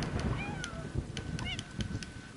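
Cat meows from a video game in which the player controls a small cat, several short rising-and-falling calls scattered over busy background game sounds and faint chatter.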